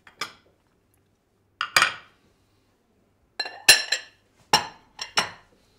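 Ceramic plates and dishes clink and clatter in several short, close bursts with quiet gaps between, handled on a kitchen counter while beef tartare is prepared.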